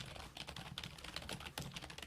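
Keys clatter rapidly on an LED-backlit membrane computer keyboard, a close, irregular run of soft clicks and taps heard on their own.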